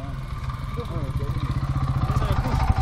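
A motorcycle engine runs close by with a steady low throbbing pulse, while people talk over it.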